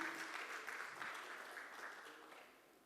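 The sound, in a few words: audience applause welcoming a guest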